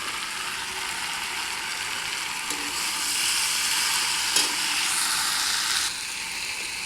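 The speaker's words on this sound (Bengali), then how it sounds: "এখন আস্তে আস্তে নাড়াচাড়া করিয়ে একটু কষাই ভালো করে" Soybean curry sizzles and fries steadily in a pan while being stirred, a continuous close hiss with a few brief clinks of the spoon against the pan and no talking.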